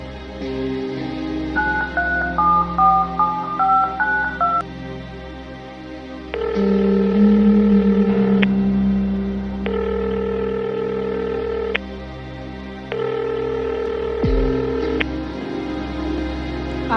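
A phone call goes unanswered, with a melodic ringtone starting, then repeating long electronic ring tones at steady intervals, loud and close, with no one speaking.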